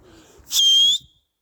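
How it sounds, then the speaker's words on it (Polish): A person whistles beside a loft of pigeons, a single loud, steady high whistle lasting about half a second, with a faint murmur before it. "Sorry za gwizdanie"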